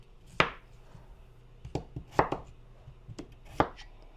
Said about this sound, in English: get the potatoes peeled, cut up a little bit, and put in the pot to start boiling